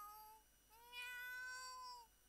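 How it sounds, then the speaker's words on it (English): A black cat meows twice up close, a short call followed by a longer drawn-out meow, clear and alone with no talking. "black cat. Kuroneko."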